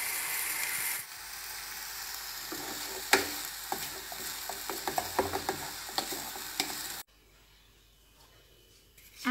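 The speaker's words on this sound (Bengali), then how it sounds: "এবার আমি কোকোনাটগুলো দিয়ে খুব ভালোভাবে নেড়ে চেড়ে ঢেকে দিব" A spatula scrapes and stirs coconut into vermicelli (semai) frying in a pan, with soft sizzling and a run of irregular scraping knocks in the middle, then the sound drops away to quiet.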